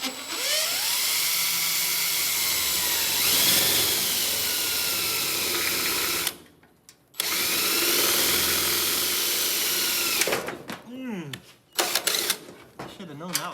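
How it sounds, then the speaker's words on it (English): A loud electric drill whines at high speed in long bursts, drilling holes in the seat rails of a VW Karmann Ghia, stopping briefly between runs, with short clattering moments near the end. "I'll drill a couple holes here and here"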